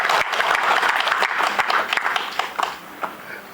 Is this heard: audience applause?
yes